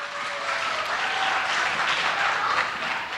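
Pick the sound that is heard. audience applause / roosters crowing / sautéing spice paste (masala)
audience applause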